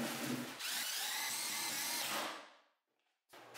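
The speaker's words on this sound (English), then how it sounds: "before running in my screws" A power drill drives screws into a wooden archery target box made from scrap, giving one steady whirring run that winds down, then a brief restart after a short silence, close and alone.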